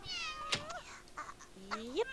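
A cat in The Sims 2 meows several times in short, rising and bending cries, close and fairly loud, with brief game effects in between.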